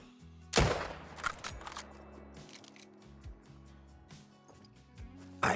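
A gunshot fired at a turkey while hunting in the video game Call of the Wild: a sharp, loud single crack at the start, with the report rolling off across open ground and softer clicks and movement afterward.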